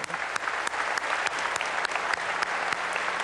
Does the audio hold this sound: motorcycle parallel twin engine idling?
no